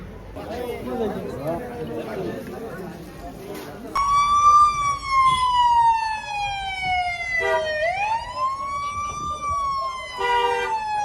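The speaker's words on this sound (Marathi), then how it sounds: "आम्ही इथं मुद्दामून हॉर्न वाजवतोय" On the road to Trimbakeshwar, a vehicle's musical, siren-style horn sounds deliberately. A loud sweeping wail rises and falls for several seconds after a stretch of voices and road noise.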